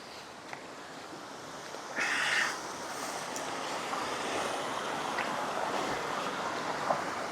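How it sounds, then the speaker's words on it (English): Water flows steadily over the spillway of a waterfall, a broad, constant roar heard from nearby outdoors. Light wind buffeting and a brief louder gust mix in, and no one speaks. "So we're coming up here to the spillway of this waterfall"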